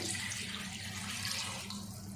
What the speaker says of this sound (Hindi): और अब डाल देंगे इसमें पानी।